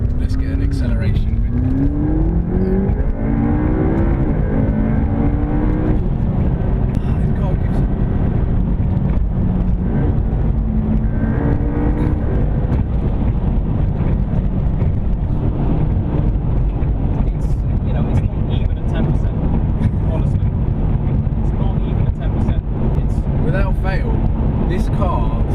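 A McLaren 12C Spider supercar accelerates hard, its engine note climbing through the gears with quick shifts, loud and close under steady wind noise, while someone talks over it.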